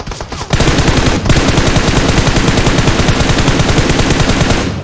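Sustained rapid automatic gunfire in PUBG Mobile, a loud close stream of evenly spaced shots after a brief opening pause, running almost without a break to the end.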